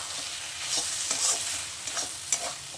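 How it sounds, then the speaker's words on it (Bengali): Dry-fried flat bean vegetable dish being stirred in a pan after a drizzle of mustard oil, a steady gentle sizzle broken by repeated scraping spatula strokes, close and fairly quiet, no talking. "ব্যাস এবার নাড়াচাড়া করে নামিয়ে ফেলবো"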